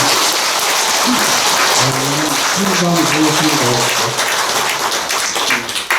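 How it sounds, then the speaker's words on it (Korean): Audience applause at a Buddhist Dharma-transmission ceremony, dense steady clapping from a crowd filling the hall, with voices talking and murmuring underneath throughout. "큰 박수를 부탁드리겠습니다"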